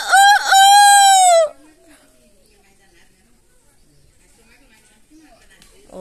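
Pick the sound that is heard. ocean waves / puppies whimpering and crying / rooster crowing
rooster crowing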